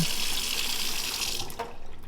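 Water from a kitchen tap runs into a container in a steady, close gush, then cuts off, with no talking.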